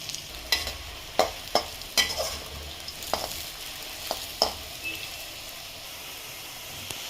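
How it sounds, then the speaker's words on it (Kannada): Bitter gourd pieces fry in a pan until brown, a quiet sizzle broken by repeated sharp scrapes and taps of a spatula stirring, about ten strokes spread unevenly. "ಬ್ರೌನ್ ಬರೋ ತನಕ ಫ್ರೈ ಮಾಡಬೇಕು."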